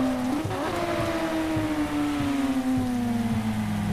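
Night rain patters steadily in a driving simulator game while a Ferrari F8 Tributo engine drones underneath, its pitch slowly sliding down. The sound is continuous, close and fairly loud, with no talking.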